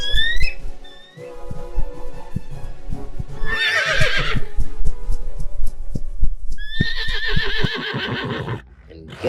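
A horse neighs in two loud, shrill whinnies, one early and one later, over a thumping clip-clop rhythm and a deep throbbing pulse, with a voice speaking in between.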